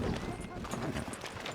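Horse hooves clip-clop in Red Dead Redemption 2, a soft rhythmic plodding of a horse mixed into ambient game sound, faint and continuous with background voices.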